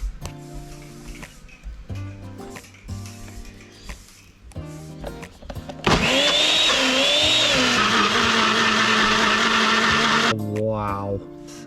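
A blender whirs loudly and steadily for about four seconds, pureeing chili paste with liquid for a lobster laksa curry, after quieter talking and background music.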